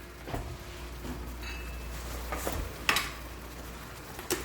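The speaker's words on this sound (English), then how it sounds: "we're going to take 2 tablespoons of our adobo, and we're going to go ahead and mix that up in here" Ground beef stirred with adobo seasoning in a pan, with faint scraping and the clink of a utensil against the pan over a low steady background and one or two sharper knocks.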